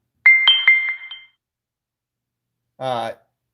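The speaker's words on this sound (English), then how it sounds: "the fucking phone going off again" A phone goes off with a short burst of bright, chiming tones pulsing about four times in roughly a second. It is close and clear, and a brief voice follows after a pause.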